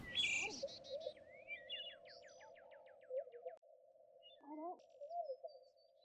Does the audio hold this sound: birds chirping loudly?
yes